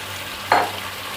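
Chicken for Sindhi biryani fries in a pan with a constant hiss of hot oil, and a brief louder sizzle swells up as it is stirred, close by.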